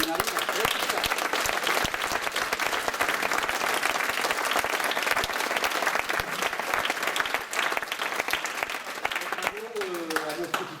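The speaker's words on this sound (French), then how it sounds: "on peut l'applaudir" An indoor audience applauds continuously, a dense, steady patter of many hands clapping at even loudness, with faint voices audible toward the end.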